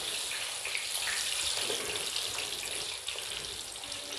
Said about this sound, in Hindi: ये ऑयल गरम है, इसमें मैं डाल दूँगी